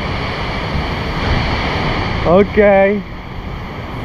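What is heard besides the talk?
Katibawasan waterfall in Camiguin, rushing water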